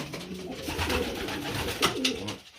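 A racing cock pigeon coos close by in a few soft, throaty rolling phrases over a couple of seconds, with no talking.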